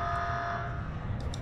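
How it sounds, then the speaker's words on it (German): An alarm sounds aboard a ship in the Starfield video game, a steady tone held under a low hum with a couple of brief higher beeps near the end, moderately loud and without speech. "Oh, was ist denn jetzt für ein Alarm?"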